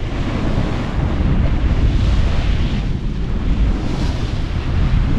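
A single-reefed sailboat runs through bouncy inland-sea conditions, heard as loud, constant wind roar buffeting the microphone over a rushing wash of water, with no pauses.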